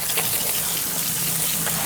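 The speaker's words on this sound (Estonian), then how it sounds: "Ja siis paneme teatud koguse vett." Water is poured into a container to make a salt brine for fish, giving a steady, close splashing gush that runs continuously without voices.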